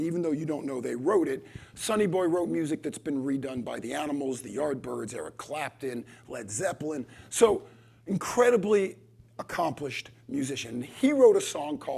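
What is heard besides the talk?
No distinct noise like a dog, phone or traffic.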